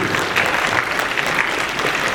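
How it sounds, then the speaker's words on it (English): A convention Q&A audience bursts into a dense, steady round of applause, loud and continuous throughout with no talk over it. "round of applause for Aiden."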